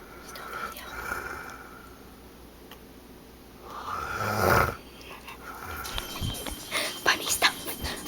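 A sleeping man snores very loudly, with rough drawn-out breaths swelling and fading, then followed by rustling and movement noise nearby.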